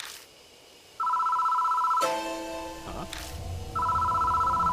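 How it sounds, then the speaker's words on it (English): A telephone rings in the horror game Spirit Hunter: Death Mark, with two loud, steady electronic ringing bursts and a brief jolt and voice in the gap between them. "The phone starts ringing out of nowhere."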